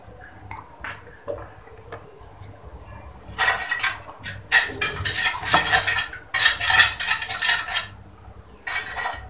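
A utensil scrapes and clinks against a pot while an agar agar jelly mixture is stirred. The sound comes in loud, busy bursts of metallic scraping and tapping with short pauses between them.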